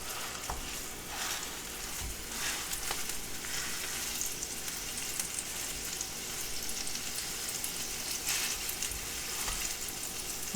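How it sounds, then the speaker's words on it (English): Vegan beef substitute fries in an oiled pan with a constant crackling hiss, and a few light clatters from stirring rise above it. Nobody speaks. "We're going to start with getting this beef fried up."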